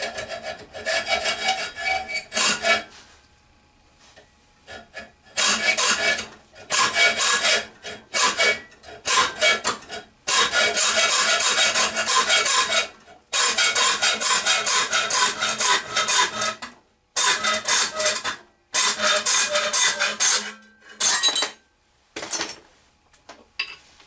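Close hand sawing through a wooden banjo piece for a lathe-turned banjo lamp, loud rasping strokes in bursts with short pauses between them, no talk.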